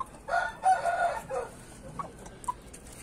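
A rooster crows once on a farm with a long, loud call, followed by a few short, sharp clucks from hens nearby against quiet background noise.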